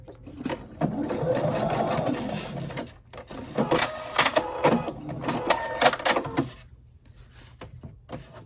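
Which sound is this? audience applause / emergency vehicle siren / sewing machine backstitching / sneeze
sewing machine backstitching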